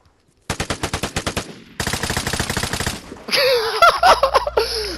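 Automatic gunfire in a video game: a rapid burst of evenly spaced shots, a short pause, then a longer, denser burst, followed by chaotic louder blasts and effects.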